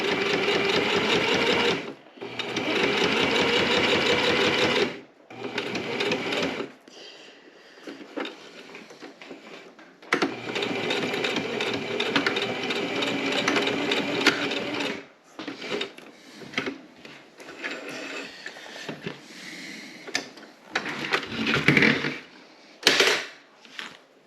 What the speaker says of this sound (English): A sewing machine's kind of like a car. It wants to go straight